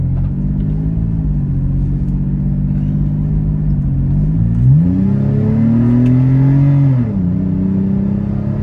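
A Toyota 4Runner accelerates on cobbled streets, its mid-pitched engine droning steadily and rising in pitch before dropping with a shift, loud and close from inside the cabin.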